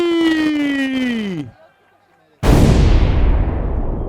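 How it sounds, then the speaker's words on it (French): Crowd at an MMA event erupts into loud, close cheering and roaring after a fighter introduction, preceded by a short burst of sliding electronic tones and a brief silence. "Mesdames et messieurs, est-ce qu'on peut faire du bruit pour John Kennedy?"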